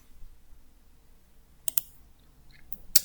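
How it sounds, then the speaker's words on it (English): Two or three sharp, close mouse clicks made while saving a game during a tutorial, isolated taps over a quiet background. "then you can click save"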